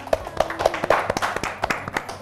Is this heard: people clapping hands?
yes